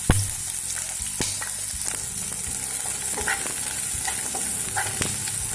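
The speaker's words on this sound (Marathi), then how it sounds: "त्याच पॅन मध्ये एक कांदा भाजून घ्यायचा आहे आपल्याला." An onion roasts in a pan that has just browned coconut, giving a loud, continuous sizzle close by, with scattered scraping and clinking as it is stirred.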